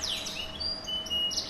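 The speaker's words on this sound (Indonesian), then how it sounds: "jenis kenari, jenisnya dari loper" A competition canary of the loper type sings a continuous stream of high, rapid chirps and whistled trills, near and clear over a faint steady background hum, with no talk.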